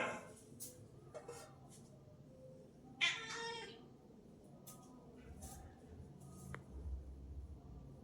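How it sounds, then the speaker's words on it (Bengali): A house cat meows a few times near a fridge, with short, fairly close cries, the loudest midway, amid quiet room noise and faint handling sounds. "এরকম ম্যাও ম্যাও করবে, দেখবা?"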